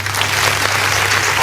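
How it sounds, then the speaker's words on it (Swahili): Dense, steady applause from a classroom group of students fills the space loudly and evenly, with a low constant hum underneath and no voices over it. "Tupigieni makofi."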